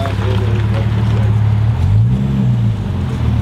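A Nissan Skyline engine runs on a dyno with a loud, steady low drone and a rising and falling rev in the middle. Speech is partly heard under the engine noise.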